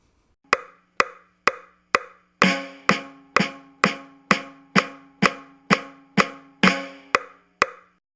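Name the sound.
drums played in the pocket at 120 bpm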